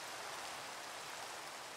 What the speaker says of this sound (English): Unfortunately, we've got this rain.